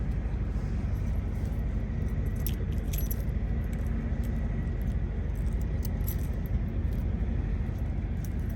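A key ring jangles near the ignition of a 1972 Chevrolet Chevelle SS, with bright metallic clinks in small bursts over a steady low rumble.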